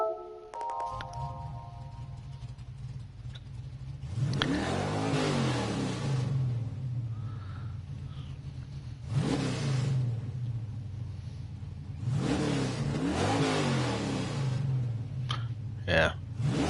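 Car engines in the video game Gran Turismo 7 rev three times in succession, each a quick rising and falling roar separated by a quieter idle, with soft talking between bursts.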